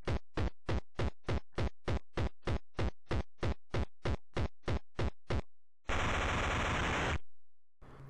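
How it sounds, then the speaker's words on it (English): Toy soldiers fire in a video game, a rhythmic string of about twenty evenly spaced loud shots followed by a longer harsh burst of noise, then silence. "Toy soldiers coming into your dreams and shooting you to death."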